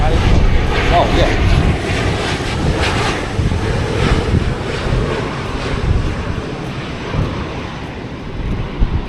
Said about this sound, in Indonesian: Pesawat landing.